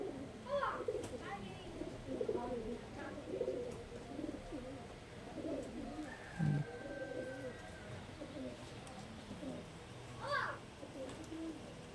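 Pigeons in a loft, including a male bird, coo in repeated low throaty bursts at close range, with a faint background whistle and occasional soft voices.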